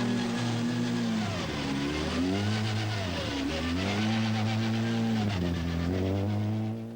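Harry Hockley's Vauxhall Nova rally car, tailgate flapping, runs a 1988 Cartel Rally stage, its engine note rising and falling steadily through gear changes, loud and close, with no talk over it.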